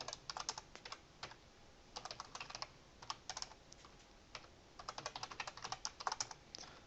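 Quick, light clicking of keys on a computer keyboard, typed in short irregular bursts with brief pauses, quiet and close with no talking.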